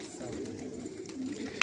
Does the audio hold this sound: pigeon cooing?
yes